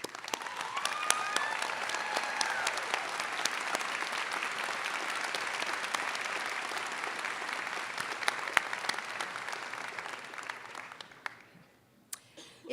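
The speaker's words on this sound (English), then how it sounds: "let's give him a big cheer as we all cheer him on" Sustained applause with cheering from a large audience fills an outdoor college commencement ceremony at Whittier College, steady and full for about ten seconds before thinning out and fading near the end.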